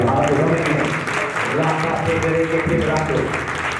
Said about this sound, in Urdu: زوردار تالی لگے پھر